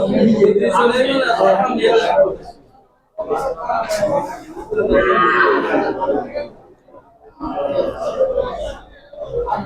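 Cattle low in long, drawn-out moos at the Fakirhat cattle market in Sitakunda, Chattogram, close and loud, with brief pauses between calls and people talking amid a background crowd babble.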